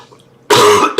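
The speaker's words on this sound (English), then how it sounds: "Can't clear my throat." A person clears their throat with a loud, close, harsh rasp, then a second short cough-like burst follows right after a quiet pause.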